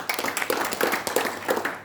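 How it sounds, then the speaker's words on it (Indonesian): A church congregation at GBI Bethany Poris Garden claps their hands in praise, a quick run of close, fairly even claps lasting a couple of seconds. "tepuk tangan buat Tuhan"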